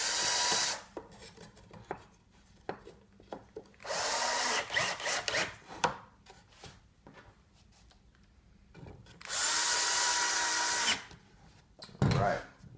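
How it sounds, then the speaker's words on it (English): A power drill drives screws through drywall while fixing a gate, with several loud whirring bursts of a few seconds each separated by quieter handling, clicks and rubbing. "I like to just drill right through the drywall and just hold those on"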